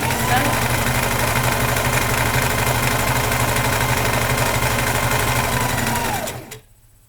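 Sewing machine stitching fabric in a fast, steady whirring run that holds for several seconds, then winds down and stops near the end.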